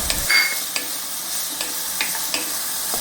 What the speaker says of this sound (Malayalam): അത് നമുക്ക് ഇതിലേക്ക് ഇട്ട് കൊടുത്തൊന്ന് വഴറ്റാം